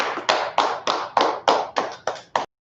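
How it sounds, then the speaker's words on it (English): A class claps hands in a steady rhythm, eight sharp, loud, evenly spaced claps close together, with no talking, ending in silence. "Clap it up for the class."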